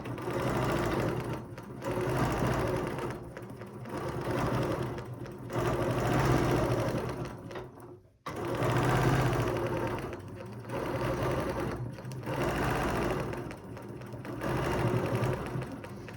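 A sewing machine runs steadily while stitching a quilt guided by a ruler foot, its motor hum loud and continuous in long bursts with one brief stop near the middle.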